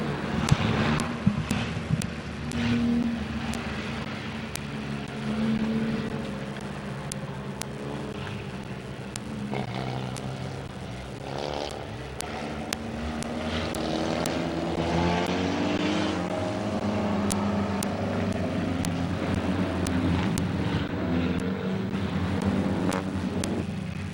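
Figure-8 race cars at Midvale Speedway drone steadily as their engines roar through a lap, a loud, sustained mix of several motors rising and falling together, with sharp clicks and knocks scattered over the noise.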